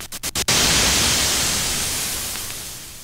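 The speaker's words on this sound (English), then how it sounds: "and white noise." A few quick clicks, then a steady hiss of white noise from a Moog 900 series synthesizer's noise generator that holds evenly and slowly fades, loud and alone.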